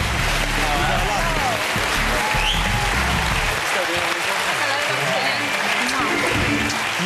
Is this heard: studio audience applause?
yes